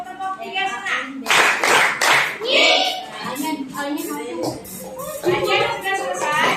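Schoolchildren in a classroom clap a counted rhythm on their teacher's cue, bursts of sharp claps mixed with a voice and children talking.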